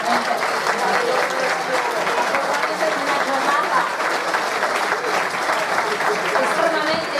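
Sustained, dense applause from an audience at an Italian political gathering of Indipendenza Veneta, steady and loud throughout, with a voice speaking over the clapping.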